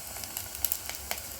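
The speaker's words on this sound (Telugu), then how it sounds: "బెండకాయల్ని కొంచెం సేపు నూనెలో వేగనివ్వాలి" Cut okra pieces frying in hot oil, a soft, continuous sizzle with tiny crackling pops scattered throughout, fairly faint and close.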